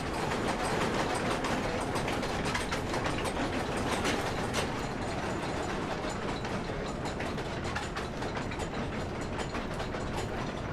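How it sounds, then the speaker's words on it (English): Gear-driven noisy machine in the video game Amnesia: The Dark Descent, running slowly, gives a dense continuous mechanical grinding and clattering with steady ratchet-like ticks, loud and unbroken throughout with no talk. "The two levers control the noisy machine."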